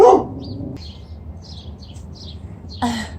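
A dog lets out one loud, close bark at the start while birds chirp faintly in the background, followed by a short noisy burst near the end.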